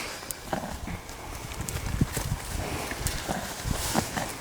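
An eight-year-old horse walks with a steady clip-clop of hooves on the ground, close by and fairly quiet amid outdoor background noise.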